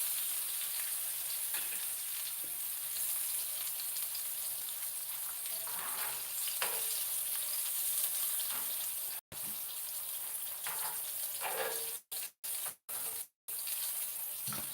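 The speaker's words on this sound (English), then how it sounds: "The last two are still frying." Fried green tomatoes and onion rings frying in hot oil, with a steady, soft, broadband sizzle that runs unbroken apart from a few brief dropouts near the end.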